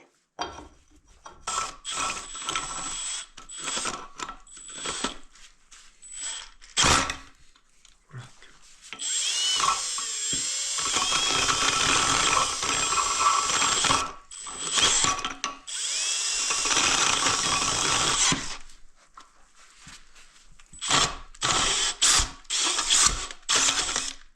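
Bursts of a power drill whirring in short spurts, then two longer sustained runs with a 40 mm bit, close by with a rough grinding edge, while fixing a forwarder log trailer.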